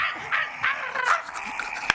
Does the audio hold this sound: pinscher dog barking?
yes